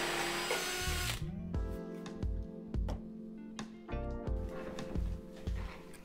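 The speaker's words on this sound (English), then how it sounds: "So I just real gentle went ahead and drilled just deep enough to take that glue out without making the hole any deeper." A power drill with a Forstner bit gently bores old glue out of a hole in a walnut veneer console table, whirring in short repeated bursts that start and stop close by, with no talk.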